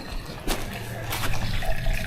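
Water rushing from a garden hose into an uncovered buried pipe beside a house, a close, gurgling, splashing flow with a couple of sharper surges.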